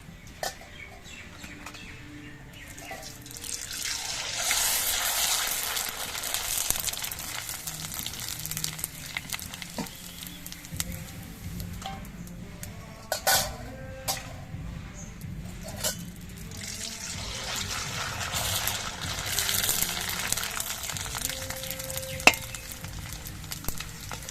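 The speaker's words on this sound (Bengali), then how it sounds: "এবারে একটা পাপড় তেলের মধ্যে ছেড়ে দিচ্ছি এরকম তেলে ছেড়ে দেওয়ার পর কি সুন্দর ফুল উঠেছে পাপড়গুলো" Rice-starch papad frying in hot oil, a close, steady sizzle that swells as pieces go in and puff, with a few sharp crackles and pops over about twenty seconds.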